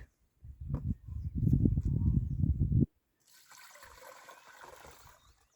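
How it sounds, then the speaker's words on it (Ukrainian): Dissolved spray solution poured from a container into a sprayer tank, a close liquid splash and gurgle lasting about two seconds, then a fainter hiss and trickle that fades out. "розмішали, він розчинився і виливаємо в бачок"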